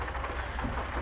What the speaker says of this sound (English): it's raining outside, sadly